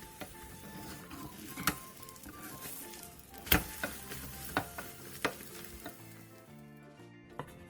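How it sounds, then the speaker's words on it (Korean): Beaten eggs frying in a small oiled pan over medium-low heat, a steady close sizzle with scattered sharp clicks and taps of a utensil, with faint tonal sounds in the background. "팬에 기름을 두른 뒤 계란물을 전부 부어 중약불에서 계란을 충분히 익혀주세요"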